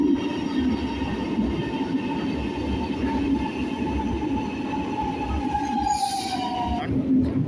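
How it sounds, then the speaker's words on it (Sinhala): An underground metro train pulls into a station in Milan, Italy, with a steady loud rumble of wheels on rail and a high squeal of wheels and brakes that slides down in pitch as it slows to a stop. "ඔයගොල්ලන්ට පේන ට්‍රේන් එක එන්නේ පොළොව යටින්."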